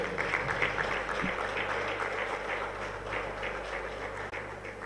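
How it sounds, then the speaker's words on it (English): A crowd at a Nigerian event in Abuja gives a round of applause during a standing ovation, a broad continuous patter of many hands at moderate loudness with a low steady hum beneath. "Please, with a round of applause, start with a standing ovation."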